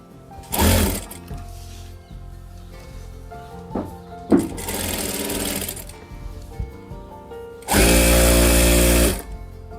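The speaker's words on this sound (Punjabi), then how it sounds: "ਤੇ ਨਾਲੇ ਤੁਸੀਂ ਮੇਰੀ ਨਵੀਂ ਮਸ਼ੀਨ ਦਾ ਕੰਮ ਦੇਖੋ ਵੀ ਕਿੰਨੀ ਸਪੀਡ ਨਾਲ ਚੱਲ ਰਹੀ ਹੈ ਇਹ" A new electric sewing machine stitching a patch onto a salwar hem runs in three loud bursts at speed, its motor whirring steadily with short gaps and clicks between runs.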